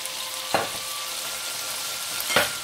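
Dark soy sauce hits a hot pan of frying chilli trout fish, two sharp sizzling bursts a couple of seconds apart over a steady frying hiss, close and loud with no talk.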